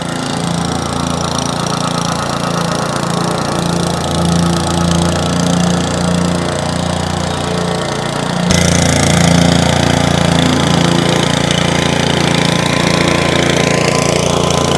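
A concrete compactor engine drones steadily like a lawnmower, running continuously and loud, with a brief jump in intensity partway through, no voices.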